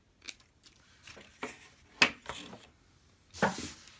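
Material being cut with scissors while making decorated candles, several short crisp snips and rustles spread across the moment, close and fairly quiet, with no talking.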